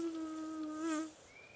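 Insect buzzing as a bee sound effect in a fairy tale about a queen bee, a steady close drone that swells slightly then fades, ending with a thin rising whine.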